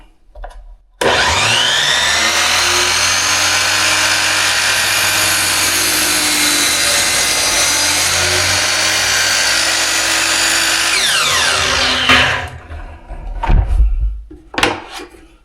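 Power saw cutting through wood flooring, a loud steady whine held for about eleven seconds then winding down, followed by a few knocks and clatters as the piece is handled.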